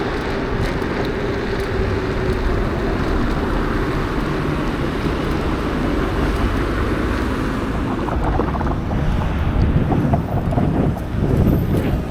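Steady, loud wind roars and buffets the microphone during a ride at about 20 km/h, with a bass-heavy continuous rush from start to finish that grows slightly gustier toward the end.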